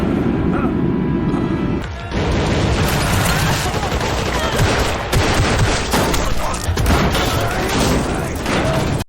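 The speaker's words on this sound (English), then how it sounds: "As a result, another shootout ensued." Sustained movie shootout with rapid, overlapping gunfire and bursts of shots, loud and continuous throughout, with a brief lull near the start.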